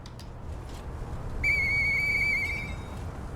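A steady, clear whistle in the video game Lies of P, held for about a second and a half over quiet background ambience, with faint harmonic overtones.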